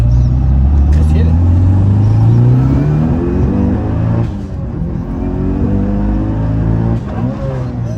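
A Mitsubishi Evo or Subaru STI accelerates hard on a smooth road, its engine note climbing steadily through the revs from inside the cabin, then dipping and rising again; loud and close, with voices in the car.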